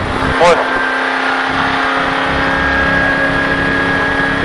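Car engine rising under throttle on a coned driving course, a steady near drone with a brief rev, running under an instructor's voice.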